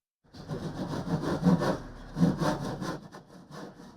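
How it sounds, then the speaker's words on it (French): Plywood boards being hand-sawn for a coffin, a steady back-and-forth rasping of repeated strokes with two stronger pulls, close and loud with no talking. "C'est avec beaucoup d'entrain que Pierre scie les planches en contreplaqué, les fixe sur les parois du cercueil posé sur son plan de travail."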